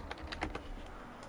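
A short burst of several distinct keystrokes on a computer keyboard, close and clear, followed by a quieter pause over a faint background hum.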